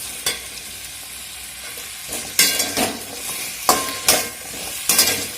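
Drumstick pieces sizzle in a pan, a steady frying hiss broken by several loud bursts of stirring and scraping at irregular intervals, close up with no talking.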